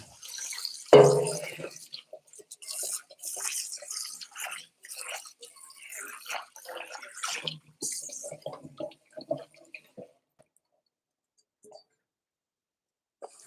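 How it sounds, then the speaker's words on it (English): A bowl washed under running water at a kitchen sink, brief splashing and dripping with a tap burst early, then faint intermittent water sounds under someone talking. "I do have to wash my bowl to mix the salad."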